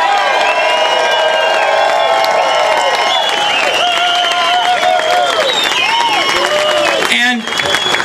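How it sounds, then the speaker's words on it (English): A large audience applauds and cheers for law enforcement officials at a Phoenix gathering honoring Sheriff Joe Arpaio, a loud sustained wash of clapping with whoops and shouted voices throughout, tapering briefly near the end. "Can we have a round of applause for our law enforcement officials?"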